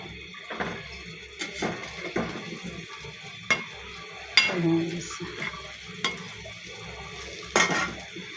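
Fritters of Malabar spinach, egg and dried fish fry in oil, with a low sizzle under repeated sharp clinks and scrapes of a utensil against the pan, spaced every second or so.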